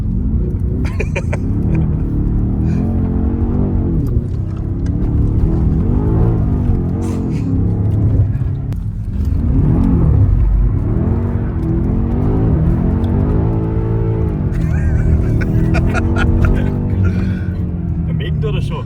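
BMW X6M SUV drifting in two-wheel drive mode, its engine revving with a steady, loud rumble throughout while people talk over it.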